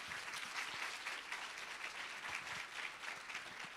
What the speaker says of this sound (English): give them a round of applause as they're walking off the stage